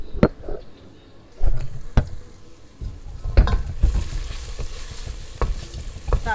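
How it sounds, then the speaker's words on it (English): Onion fries in olive oil and butter in a pan for a homemade chicken curry, a close, loud sizzle broken by repeated scraping stirs and clinks of the utensil. "That is the onion frying away."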